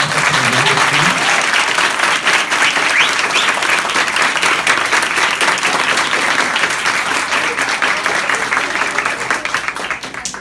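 A large audience at a school event welcoming the poet Sérgio Vaz bursts into sustained applause, a dense, loud wash of many hands clapping continuously, easing only slightly toward the end.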